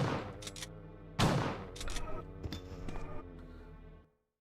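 Gunshots in the Resident Evil video game, fired at close range in a police station bathroom as a few sharp reports, one heavier blast, then ringing decaying tails before an abrupt cutoff.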